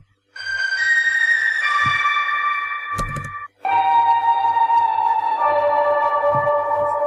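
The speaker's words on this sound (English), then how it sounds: "It's basically just a piano plus a granulator, going through a granulator, going through a lot of reverb" Sustained shimmering piano tones run through a granulator, smeared into long glassy drones, washed in heavy reverb, with a brief gap before another swelling cluster of held notes.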